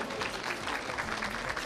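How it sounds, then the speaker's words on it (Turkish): Audience applause at a Komek Altındokunuşlar event, a steady wash of many hands clapping together, moderately faint and continuous throughout, with no voices over it. "Alkışlıyoruz tekrar."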